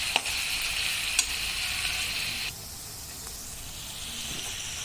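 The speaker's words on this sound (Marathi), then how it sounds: "कांदा छान फ्राय करून घेऊयात." Onion sizzling and frying in hot oil for puffed rice chivda, a steady close hiss with a few crackles that drops to a softer sizzle partway through.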